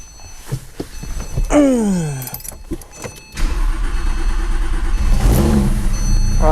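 A rebuilt Porsche 911 Turbo 997.2 with the 9A1 engine cranks with a falling starter whine, then catches into a loud, close idle roar that swells briefly with a rev before settling steady.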